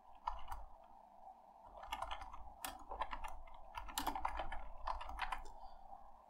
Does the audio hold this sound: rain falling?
no